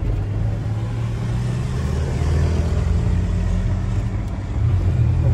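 Ford F250 pickup with a V6 engine drives along, its low, steady rumble continuous and fairly loud inside the cab with a slight swell in revs midway.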